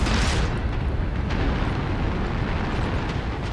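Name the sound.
missiles firing in the video game MechWarrior Online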